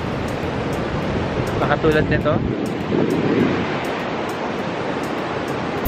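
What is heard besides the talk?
ocean waves at Nagtabon Beach, Puerto Princesa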